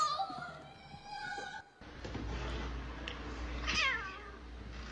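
A cat meows a few times at moderate distance over a murky background, with a brief musical passage at the start.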